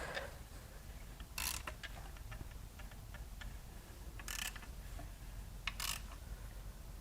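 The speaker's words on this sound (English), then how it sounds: "We're going to turn the crank over and see if we see any dark spots or signs of something getting hot." Mechanical clicks and ratcheting taps from turning over the crankshaft of a failed 3.5L EcoBoost V6 from a Ford F-150 during teardown, with scattered light ticks and a few louder bursts of tool noise over a low background hum.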